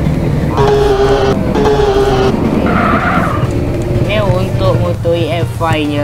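EFI motorcycle engine from a sound mod in GTA San Andreas, revving with rising and falling tonal whine throughout at steady loud level, with a voice talking over the engine noise.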